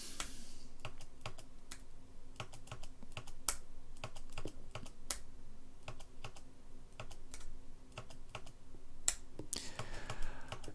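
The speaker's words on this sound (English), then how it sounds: "This is an exercise in keystrokes, nothing more." Steady keystrokes on a computer keyboard, crisp individual taps at an irregular typing rhythm, close and moderately loud, with no voices.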